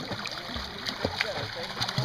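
A child swimming in a pool splashes water with scooping arm strokes and flutter kicks, repeated small splashes and sloshes at close range over a steady watery wash, with no speech in the moment.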